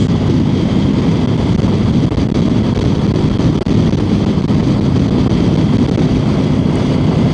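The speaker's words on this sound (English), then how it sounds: "Very windy." Loud, constant wind buffeting the microphone, a dense roar with no speech.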